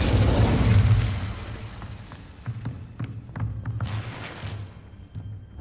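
A fire spell cast in the Hogwarts Legacy video game, heard as a loud whooshing burst of flame at the start that fades into a low rumble, followed by scattered small pops and crackles.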